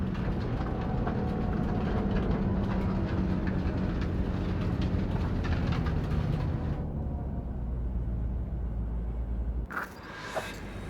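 A train in the video game Cyberpunk 2077 rumbles steadily with rolling rail noise and a low drone, then the sound cuts abruptly near the end to a brief change in ambience.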